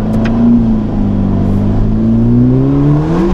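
A 620 hp turbocharged Ferrari Roma engine accelerates steadily, a smooth rising drone heard close and continuous with a faint whir on top.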